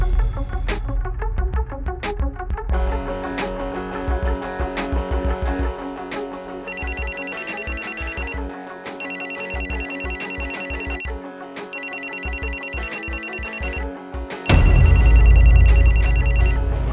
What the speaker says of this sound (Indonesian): Kok teleponnya nggak diangkat,